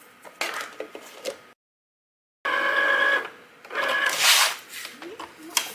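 A Cricut machine cuts everyday iron-on vinyl with a whirring, sewing-machine-like mechanical buzz in short bursts, broken by a full second of silence, with faint handling noises in between.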